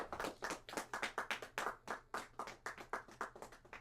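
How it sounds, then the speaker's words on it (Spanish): A church congregation clapping together in a fast, rhythmic beat, many hands sounding as repeated sharp bursts that carry through the hall, fairly soft and steady, with no speech over it. "Dale un fuerte aplauso al Padre."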